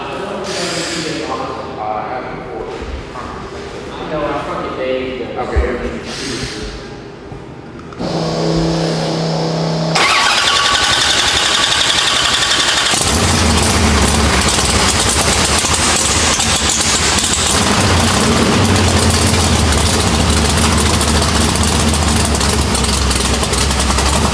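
Cranking and sputtering give way to a 632 big block Chevy V8 catching and roaring to life, then holding a loud, rough, lumpy idle with brief talk early on.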